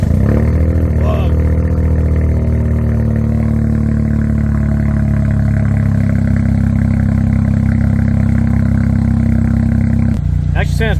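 A 2023 Toyota GR Corolla with an MBRP catback exhaust rumbles loudly and steadily at idle after startup, a deep throaty exhaust drone that holds throughout with a slight rise near the end.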